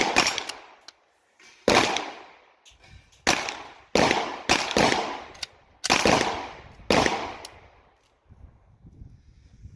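Canik TP9 DA/SA 9mm pistol fired at a gun range: about eight sharp, loud reports in an irregular sequence, some in quick pairs, each with a short ringing decay, no talk.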